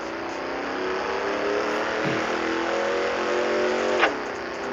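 A car in the Drag Racing Streets game revs steadily under acceleration, its engine tone climbing, then a sharp gear shift near the end cuts the pitch and makes it jerk forward, loud and close with no talk.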